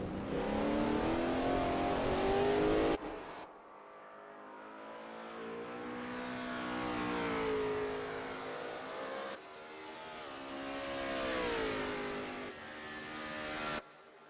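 A Lola T70 MkII Spyder race car howls around Willow Springs in a racing video game, its engine rising and falling through repeated loud revs with abrupt gear-change drops between pulls.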